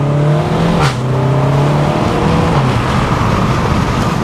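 A loud SEAT Leon Cupra 300 engine runs at high revs on a wet road; a single sharp exhaust pop marks a gear change before the engine note drops and carries on.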